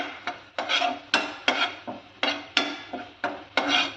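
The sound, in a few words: stirring dried coconut into poha sweet in a pot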